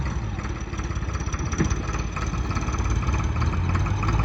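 A modified Swaraj 855 tractor engine idles close by, a steady, loud, continuous chug with an even low rumble and no break throughout.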